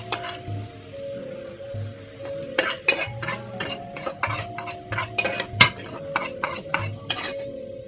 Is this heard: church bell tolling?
no